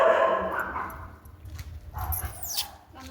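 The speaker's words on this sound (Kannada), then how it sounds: "ಮೇಲೆ ನಾಯಿ ಇದೆ, ಏನೋ ನಾಯಿ ಇದೆ, ಸೌಂಡ್" A dog barks and yips from upstairs, a few short muffled calls with whimpering tones, heard indoors at a moderate distance.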